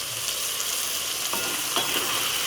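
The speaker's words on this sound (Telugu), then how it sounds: "ఇది బాగా మిక్స్ చేసుకోవాలి" Food being stirred and mixed in a hot frying pan while making ivy gourd (dondakaya) roti pachadi, a steady sizzle with a few soft scraping strokes, close and continuous, no voices.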